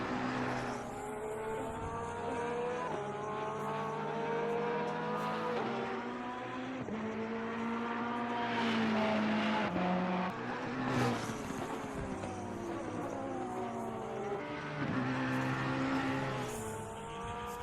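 McLaren race car lapping Bathurst in a racing simulator: a loud, continuous engine note climbing and dropping through repeated gear shifts, with brief tire squeal and no voices.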